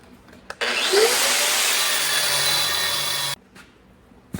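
A power cutting tool grinds steadily through metal on a welded part, throwing sparks, with one sustained loud whining cut of about three seconds that starts abruptly and stops abruptly, close by.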